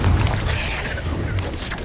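Hogwarts Legacy combat with the Confringo fire-blast spell: a steady, loud booming roar of explosive impacts lasts throughout, with dense low rumble and crackling bursts layered over one another.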